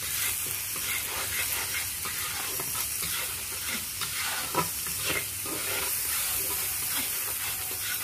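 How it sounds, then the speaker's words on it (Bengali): A spice masala with turmeric and chili powder sizzles steadily in a pan while it is stirred, with scraping strokes and soft hiss up close and no talking. "একটু হলুদ গুঁড়ো পরিমাণ মতন দেবো বুঝে, আর লঙ্কার গুঁড়ো দিয়ে আবার ভালো করে এটা নেড়ে নেবো"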